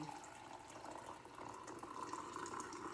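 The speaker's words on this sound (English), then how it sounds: "my favorite part is pouring the coffee in" Coffee pours into a cup in a faint, steady liquid splash that runs for a few seconds with no other sound over it.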